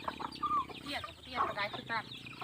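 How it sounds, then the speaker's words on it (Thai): Two wild jungle fowl cluck in short, clipped bursts, fairly close and moderately loud, with brief pauses between calls. "อันนั้นไก่ป่าแท้แท้ทูตัว"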